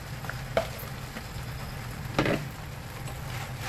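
Sardines and pechay cabbage fry in a pan with a soft, continuous sizzle, heard close but quietly, broken by a couple of brief clatters as the food is stirred.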